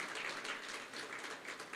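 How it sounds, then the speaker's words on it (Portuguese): Distant applause from a church congregation for a missionary couple, a soft continuous patter of many hands with no talking over it. "Vamos dar uma salva de palmas para eles."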